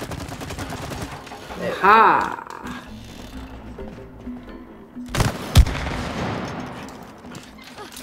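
Weapon fire hits a target in the video game It Takes Two. A loud burst of shots comes early, followed later by a sharper blast, amid game effects and a brief voice.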